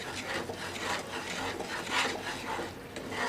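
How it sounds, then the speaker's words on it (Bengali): Spices with salt and turmeric stirred and scraped in a pan while cooking sorshe pabda, a steady rasping, rubbing stir with a few soft utensil knocks, close and continuous with no talk. "লবণ আর হলুদ দিয়ে আমি মশলার সঙ্গে ভালো করে কষিয়ে নেব।"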